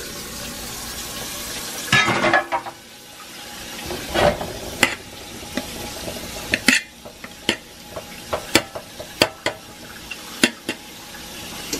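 Shrimp going into a hot pan and frying, a steady sizzle with scattered pops and clinks of utensils, close up.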